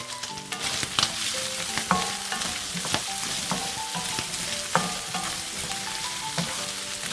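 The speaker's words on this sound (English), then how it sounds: "That's the onions browning, the chole and the potatoes." Onions, chickpeas and potatoes fry in a hot pan with a loud, steady sizzle and crackle, broken by regular scrapes and clinks of stirring.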